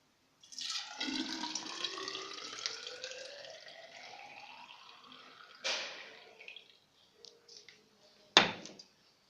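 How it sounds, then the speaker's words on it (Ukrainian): Water pours into a glass test tube, its pitch rising as it fills, followed by a couple of sharp glassy clinks, quiet and close. "Заливаємо воду."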